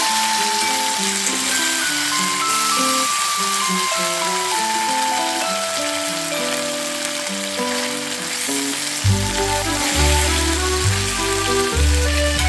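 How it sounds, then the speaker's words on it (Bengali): Paneer pieces fry in oil in a pan with a constant bright sizzle, close and loud, while tonal background music plays throughout and a heavy bass beat enters near the end. "ফ্রাই হয়ে গেছে আমি উল্টে দিচ্ছি"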